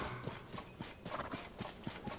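Horse hooves clip-clop in The Legend of Zelda: Tears of the Kingdom, a steady trotting rhythm of evenly spaced, quiet hoofbeats, close and alone.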